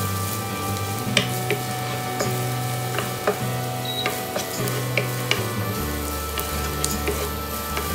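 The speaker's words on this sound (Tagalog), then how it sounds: "antayin lang natin mag-brown yung onion at yung garlic at ginger" Onion, garlic and ginger fry in a hot pan, a loud, steady sizzle with a few sharp crackles and ticks scattered through and nobody speaking.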